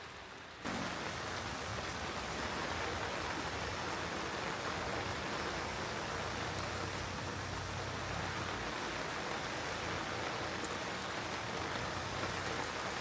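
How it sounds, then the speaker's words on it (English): Steady rain pours down at a campsite by the Arkansas River with a dense, even hiss of drops hitting surfaces, continuous and fairly loud throughout, with no voices. "because it is kind of raining here"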